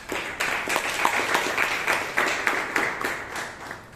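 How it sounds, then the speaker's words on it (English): Round of applause from a small group at a Toastmasters club meeting in Bangalore: dense, steady hand clapping at moderate loudness for the full four seconds, with no talk over it. "Let's give each one of us a huge round of applause."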